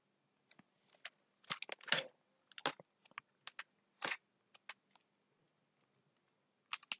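Quick bursts of clicks on a computer keyboard as code is typed into a web editor, the clusters of keystrokes uneven and spaced by short pauses, close and fairly quiet with no talking.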